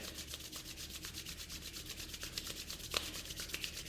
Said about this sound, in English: bring your hands together above your chest and rub them together